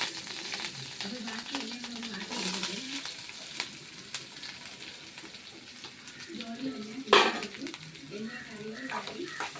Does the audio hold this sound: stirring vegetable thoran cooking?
yes